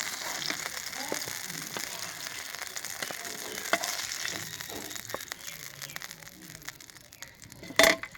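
Fish pie frying in a pan, a continuous close sizzle with small crackles and a louder clatter near the end, no talking.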